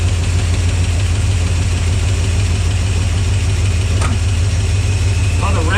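A 1969 Dodge Dart engine with a replacement carburetor idles steadily with a low, even rumble, close and continuous, with a brief clink partway through.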